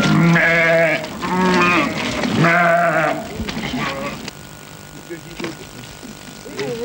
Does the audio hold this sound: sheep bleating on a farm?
yes